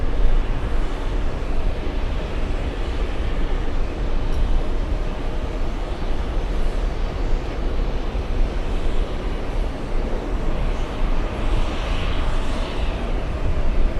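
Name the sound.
airplane from Milan on final approach at JFK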